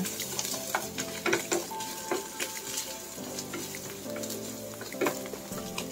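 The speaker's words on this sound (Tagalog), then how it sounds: "haluin na natin siya" Spaghetti with pepper is stirred in a sizzling pan, a continuous frying hiss broken by repeated clinks and scrapes of the utensil against the pan, close up.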